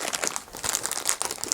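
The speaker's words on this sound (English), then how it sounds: "find the knife, and let's just cut this open" Model rocket packaging is cut open with a Swiss Army knife, giving brief close crinkling and crunching of plastic wrap with small sharp snips.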